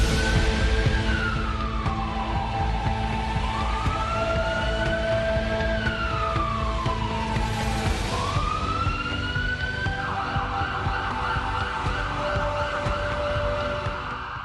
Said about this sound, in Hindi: राजधानी में ऑक्सीजन के टैंकरों को एस्कॉर्ट करती पुलिस की गाड़ियां सायरन बजाती हुई दौड़ रही हैं